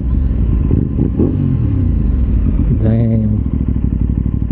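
Aprilia RS660 Extrema sport bike fitted with an SC Project exhaust, its engine rumbling close by and then revving up and down once; a voice speaks briefly over the engine.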